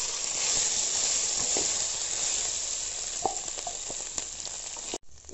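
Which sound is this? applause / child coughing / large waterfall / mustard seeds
mustard seeds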